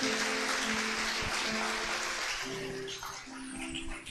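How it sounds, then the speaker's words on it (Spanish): A church congregation claps during a Spanish-language service, producing a dense, continuous rush of applause over sustained musical tones, with the clapping easing slightly toward the end. "Fuerte ese aplauso al Señor."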